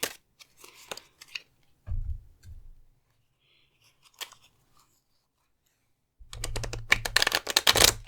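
An oracle card deck is shuffled by hand in quick bursts of crisp riffling and snapping cards, separated by quiet pauses, ending in a louder, rapid flurry of shuffling.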